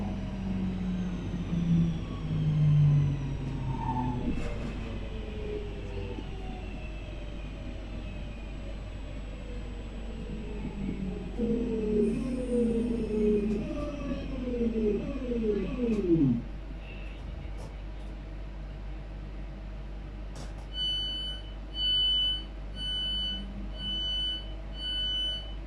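West Midlands Railway Class 323 electric train arriving into a station, with rising and falling motor whine, squealing brakes as it slows to a stop, then steady idling hum and electronic chimes.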